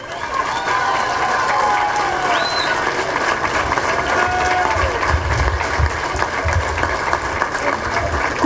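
A large crowd at a Dominican political event applauds and cheers for a government minister, a continuous roar of clapping and voices, loud and steady throughout, with a low rumble underneath.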